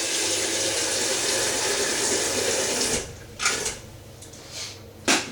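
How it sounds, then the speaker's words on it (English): A kettle fills from a running tap in a kitchen, giving a steady rushing stream of water for about three seconds before it stops, followed by a few clunks and handling knocks. "So we'll get the kettle on the boil."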